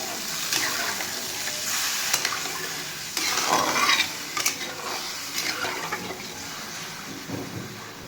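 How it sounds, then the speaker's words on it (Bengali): Water poured into a cooking pot for a Bengali fish curry in a home kitchen, a close splashing, hissing rush with a few clinks against the pot, moderately loud and without talk. "আমি এখন তাড়াহুড়ো করে মাছের ঝোলটা বসাচ্ছি। জল দিয়ে দিলাম।"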